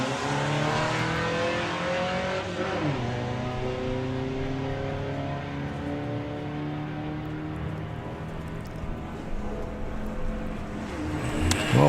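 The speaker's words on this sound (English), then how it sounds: "It'll be the Beetle going first, and it'll be the Audi TT doing the closing." A Volkswagen Beetle and an Audi TT drag racing at Santa Pod during Sportsman Nationals eliminations, a loud sustained engine roar with rising and falling revving tones that sweep upward as the cars accelerate down the strip.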